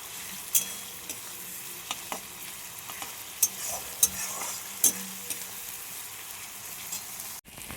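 Spices frying in a pan for a fish-head curry, a soft continuous sizzle under scattered scrapes and clinks of a utensil stirring, close by. A single sharp knock comes near the end, and no one speaks.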